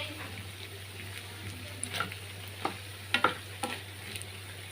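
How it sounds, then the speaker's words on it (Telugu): Lentil vadas made from two kinds of dal fry in hot oil, a soft, faint sizzle with a few sharp crackles and pops scattered over a low steady background hum. "మంచి ఇట్లా ఎర్రగా వేగితే బాగుంటాయి, క్రిస్పీగా లోపల మెత్తగా పైన క్రిస్పీగా చాలా చాలా బాగుంటాయండి"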